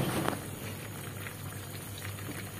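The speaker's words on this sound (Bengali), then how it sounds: "ঝোলটা ফুটতে শুরু করেছে এক এক করে" Tilapia fish curry gravy with Malabar spinach simmers in a pot, producing a soft, continuous bubbling with small pops, close and moderately quiet, with no voices.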